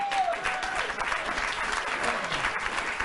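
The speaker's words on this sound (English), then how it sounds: "even Trump's clapping." Steady crowd applause from a room full of people, including Donald Trump clapping, a dense continuous patter of many hands heard fairly close throughout.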